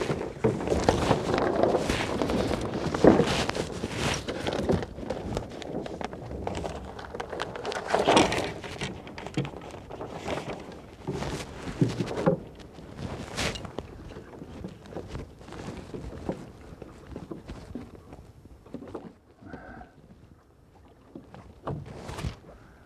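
Lug sail being hauled up on a small sailboat, with irregular bumps, rope rustles and creaks close by, intermittent thuds over light wind, then quieter handling toward the end.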